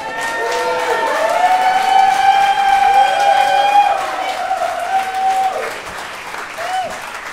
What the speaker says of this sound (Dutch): Nog een keer een groot applaus voor Hunter Lamoot.